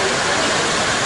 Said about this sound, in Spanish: Mucha lluvia está cayendo aquí en el campo del Palamós